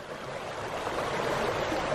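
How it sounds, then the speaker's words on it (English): Small mountain brook near a chapel in Allenspark, Colorado, a steady broadband rush of flowing water, even and continuous, close and alone. "maybe a little brook"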